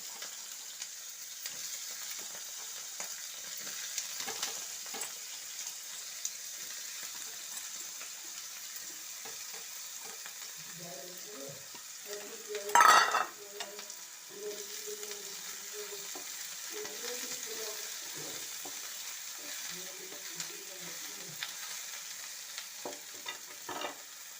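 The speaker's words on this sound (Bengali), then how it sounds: "তেল দিয়ে এখন প্রথমেই আমি বেগুনগুলো ভেজে নেব।" Eggplant pieces frying in hot oil in a wok for a helencha greens recipe give a steady close sizzle with light stirring clatter and one brief louder burst midway.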